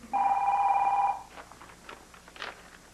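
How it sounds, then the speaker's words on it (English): A telephone rings once with a loud, close electronic trill that lasts about a second. Faint, quiet room sounds follow. "Scott, why are you answering Kevin's phone?"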